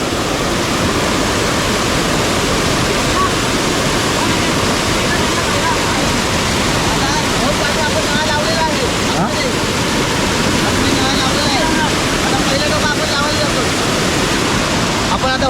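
Loud, continuous rushing water where the Gad and Kajali rivers meet in the Konkan fills the whole stretch, a broad churning roar that never lets up.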